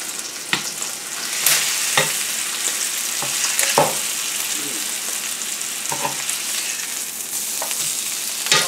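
A ribeye steak fries in a hot pan, with a loud continuous sizzle throughout, broken by sharp crackles and spatters, and occasional stirring or handling noises near the pan.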